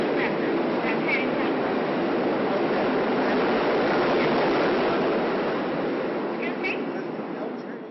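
Continuous rumbling roar of subway trains fills a station at 66th Street, Lincoln Center, in New York, loud and steady throughout, with faint voices briefly surfacing beneath it.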